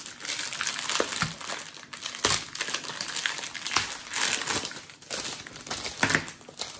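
A Match Attax 2021/22 card multi-pack wrapper is torn open, crackling and crinkling in uneven bursts with sharp rips, close and loud, with no speech.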